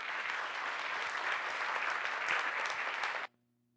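Lecture audience giving a warm round of applause to welcome a speaker, a full, even burst of clapping that cuts off abruptly near the end, leaving near silence with a faint hum.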